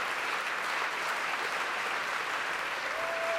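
Sustained, dense applause fills Wigmore Hall as a baritone and his pianist take bows after a recital. Many hands clap in an even roar that holds steady throughout, with no speech.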